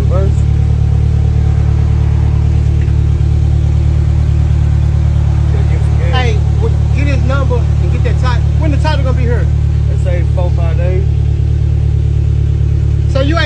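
A Slingshot's engine idles with a steady low rumble, continuous and close throughout, while people talk over it intermittently.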